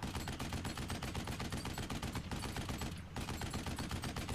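A minigun in Duke Nukem Forever fires a continuous, dense rattling burst, loud and up close, with two brief dips before the relentless fire resumes.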